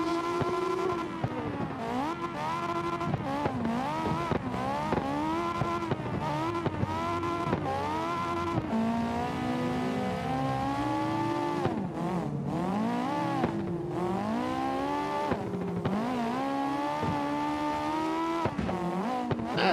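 Drift cars in a video game, engines revving and wailing continuously with rapidly rising and falling pitch as they shift, mixed with tire squeal, loud and steady throughout with no talking.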